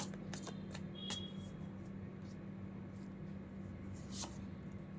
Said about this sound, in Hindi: एक फाइनल कार्ड और निकालती हूँ मैं इस पाइल के लिए